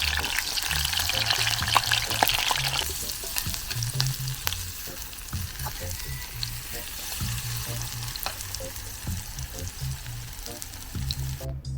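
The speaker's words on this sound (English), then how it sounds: "I then poured my cooking oil to a heated pot where I then place each bami inside and fry until golden brown." Bami pieces fry in hot cooking oil in a heated pot, giving a steady crackling sizzle, louder at first and then settling. Occasional utensil knocks sound close by.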